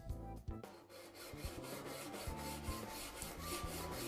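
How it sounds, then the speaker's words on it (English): A hand saw cuts an outlet hole in a gutter, with a steady rhythmic rasping back-and-forth stroke repeated close by throughout. "There are different ways of marking the hole, but today I'm using a saw."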